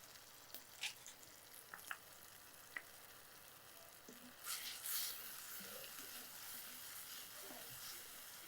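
A ground paste with tomato and garlic sizzles steadily in a hot pan for a Thoothukudi dried-fish egg kuzhambu, with occasional sharp clicks of a spoon stirring against the pan. The frying is soft and continuous, and the hiss swells near the end.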